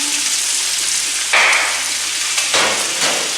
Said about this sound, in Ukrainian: Пасирую гриби, цибулю та відварне м'ясо.